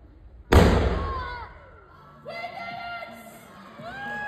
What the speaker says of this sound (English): Explosion, let's see.